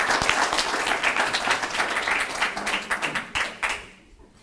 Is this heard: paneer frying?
no